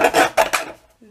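Paper being cut for a handmade scrapbook album: three quick, close rasping snips in succession, then silence.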